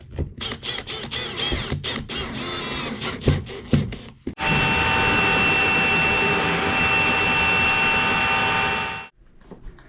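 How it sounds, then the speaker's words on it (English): A vacuum cleaner hoovers a newly fitted carpet. After some clatter and handling knocks, it starts abruptly, runs as a loud steady whine for about five seconds, then cuts off. "I do need to hoover it though."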